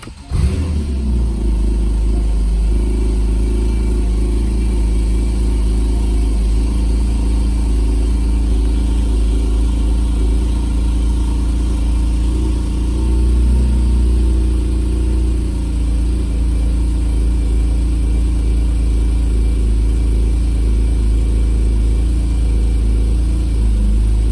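Porsche engine restarted after an oil-service reset, catching quickly and then settling into a steady close idle that runs evenly for over twenty seconds with no talk.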